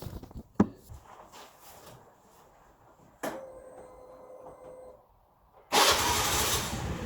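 A scooter engine cranks in a few short bursts, then starts with a sudden loud roar that runs steadily to the end, close by and with no voices.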